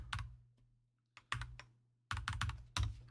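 Someone types on a computer keyboard while building an Excel spreadsheet, in several fast bursts of close, crisp key clicks. Short silent pauses separate the bursts, and a low hum runs underneath.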